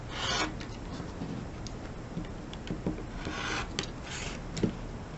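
A rotary cutter trims the first two edges of a quilt fabric block, likely half-square triangles, giving a steady close rasping scrape with a few sharper strokes and clicks, no talking.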